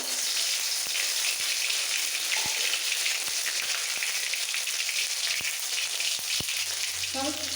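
Chopped garlic sizzles in hot tempering oil with whole cumin seeds for Golbari-style mutton kosha; a steady, bright frying crackle with a few sharp ticks and taps, no voices.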